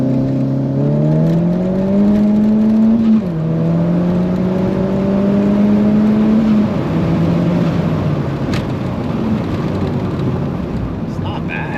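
A cheap boosted project car pulling hard at 4,000 RPM at about 40 mph while building boost, a loud sustained engine drone rising in pitch in stages, heard from inside the cabin.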